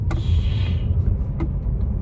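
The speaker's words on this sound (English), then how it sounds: "Freaking love punching it in this car." A car accelerates hard, giving a dense low engine roar that swells and rumbles steadily for a couple of seconds, close and loud with no talking.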